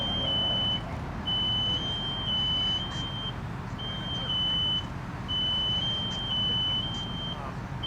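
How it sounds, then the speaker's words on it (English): A smoke alarm beeps in repeated bursts of a steady high tone with short gaps while a synthetic Christmas tree burns indoors during a fire safety demonstration, set against a broad rushing roar of fire. "The smoke alarm's already going off in that space."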